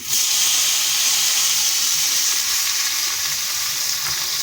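Pumpkin leaves and garlic sizzle loudly in a hot pan, a dense, steady frying hiss that holds for the whole stretch, with faint stirring scrapes underneath and no voices.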